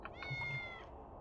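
A single short cat meow from the video game Tales of the Neon Sea, clear and fairly quiet, with no talking over it.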